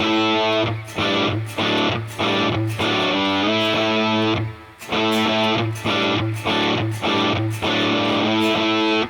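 A distorted electric guitar chugs through a choppy, stop-start riff, loud and close, with short rhythmic bursts and brief gaps between phrases.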